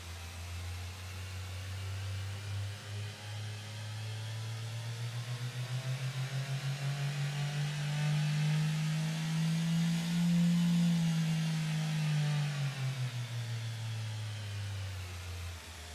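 A car engine sound effect in an FMOD demo revs steadily, its low hum rising in pitch toward the middle and easing back down, loud and continuous with no voices.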